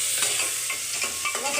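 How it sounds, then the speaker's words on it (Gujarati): Vaghar tempering spices hitting hot oil in a pan give a continuous close sizzle, with short stirring scrapes repeating every few tenths of a second. "વઘાર કરો હો"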